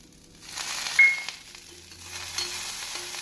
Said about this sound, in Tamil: வெங்காயம் சிறிது வதங்கியவுடன் நாம் கறிவேப்பிலையை போட வேண்டும்